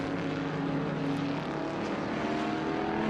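An Alfa Romeo race car drives by at Watkins Glen during a vintage sports car race, a loud continuous engine drone that stays steady and close for the whole stretch, with no speech.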